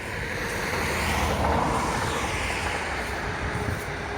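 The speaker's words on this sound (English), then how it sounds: "a train." A passing train produces a steady, broad rumble and rush on a walk near Station Road in Bannockburn, staying loud and continuous throughout with no talking.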